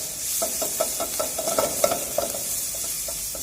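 Finely chopped onions, half a cup, frying in a pan under a steady loud sizzle, with a spoon stirring in quick regular scraping strokes close by, no talking.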